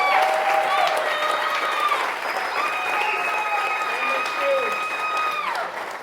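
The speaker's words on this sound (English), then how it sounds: "how about another round of applause for Dawn Harper Nelson and the amazing energy she brought" An audience at a boot camp event applauds with cheering, a steady wash of clapping and crowd noise, with whoops or whistles rising above it throughout.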